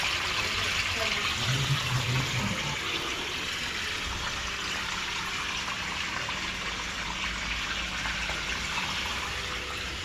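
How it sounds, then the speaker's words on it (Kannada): Water pumped by a motor out of a home water tank or sump during a cleaning service, a steady continuous rush and gush of flowing water that stays even and fairly loud throughout, with a low mechanical hum beneath. "ಒಳಗಡೆ ಮೋಟಾರ್ ಬಿಟ್ಟಿದ್ದೀವಿ. ಸೊ ಮೋಟಾರಿಂದ ನೀರು ತೆಗಿತಾ ಇದ್ದೀವಿ."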